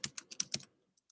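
Keystrokes on a computer keyboard as a new course name is typed, a quick run of about six close, crisp taps followed by a pause and two lighter taps, heard alone.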